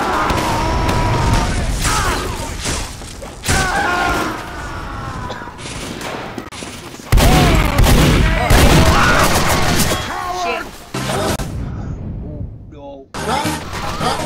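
Video game gunfire crackles in repeated bursts and fusillades, loud and close, with short gaps between volleys and excited voices talking over the shooting.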